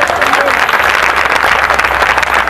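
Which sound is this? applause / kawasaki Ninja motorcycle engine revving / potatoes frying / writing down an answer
applause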